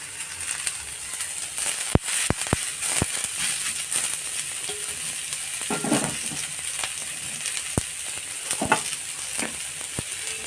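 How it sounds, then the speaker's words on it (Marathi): Onion and garlic roast together on an iron griddle for a traditional Maharashtrian goda masala, giving a soft continuous sizzle broken by sharp clicks and scrapes of a spatula stirring, with no voices. "आता कांदा भाजून घेऊया. कांदा ना लसूण एकत्रच भाजायची."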